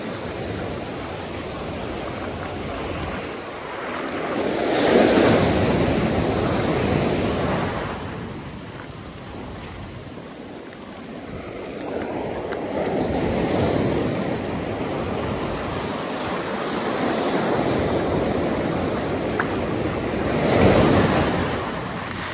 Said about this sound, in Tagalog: Lakas po ng alon dito.